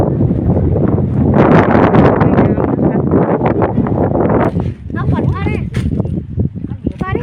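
Strong wind blows across a microphone on an island in the middle of a river, a steady loud roar and buffeting throughout while a person talks over it.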